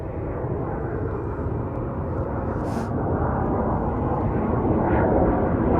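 An Avro Vulcan bomber roars through its flying display at the Scottish Airshow 2015, a loud, broad, continuous jet rumble that swells slightly toward the end.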